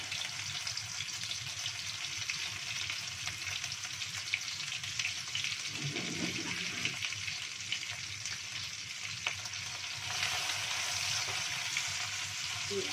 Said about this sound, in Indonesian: Nah, udah panas ya, tuangkan telurnya.